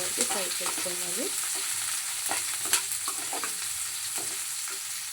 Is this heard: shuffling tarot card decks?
no